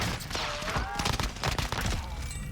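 Rapid hip-fired Volkssturmgewehr shots in a video game, a dense, steady stream of sharp reports with thumps and game effects mixed in, continuous and loud throughout.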